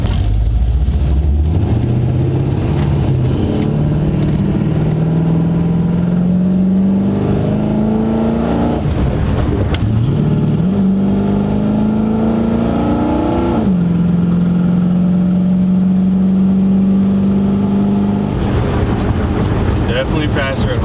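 1968 Chevy C10 shop truck with a 333hp crate motor accelerating in first gear, the engine note climbing in steady pitch sweeps with brief dips at each shift, loud and continuous from inside the cab.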